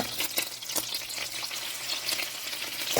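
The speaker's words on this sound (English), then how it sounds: "All right, so I'm adding the fish to the pan now." Swordfish steaks fry in melted butter in a pan, giving a dense, continuous crackling sizzle heard up close for three seconds, with a few brief spatters and no speech.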